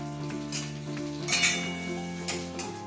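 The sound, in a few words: semolina (suji) frying in a pan with bay leaf and cardamom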